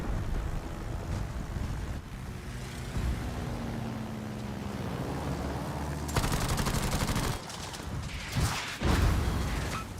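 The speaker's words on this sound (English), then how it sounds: "Ooh, somebody's shooting at me." Gunfire in World of Warships sounds as rapid crackling bursts over a steady windy, engine-like drone, with the louder volleys coming in the second half and no talk over them.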